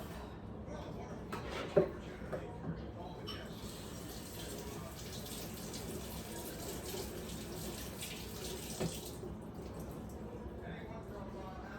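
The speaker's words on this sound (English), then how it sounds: "Drain it and then rinse it off." A kitchen tap runs steadily while a pork loin for peameal bacon is rinsed and drained in the sink, water splashing continuously at close range with a brief clatter early on and no talk over it.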